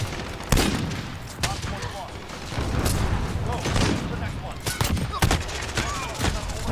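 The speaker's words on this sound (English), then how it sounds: "It's a hunting rifle." Hunting rifle fire in a Call of Duty match on the Shipment map: several sharp, loud shots ring out at irregular intervals over a dense bed of background battle noise and other gunfire.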